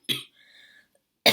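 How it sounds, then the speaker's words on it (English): A woman coughs sharply once, gives a faint throaty rasp, then coughs again, each burst close and alone in quiet surroundings. "Oh, as I'm literally coughing."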